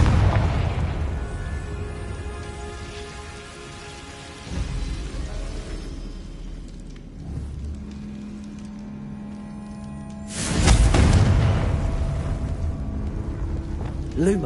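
Confringo fire spell blasts in the Hogwarts Legacy video game, deep booming explosions bursting out amid ambient game sound, with the loudest blast near the end, while a player talks.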